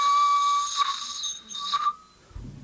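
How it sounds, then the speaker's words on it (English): A hollow horsetail plant stem blown as a whistle gives two thin, high tones, the first longer and the second shorter, close by with a brief pause between, then a soft rustle. "Oh, somebody's trying to blow on it. Yes, you can make a little whistle."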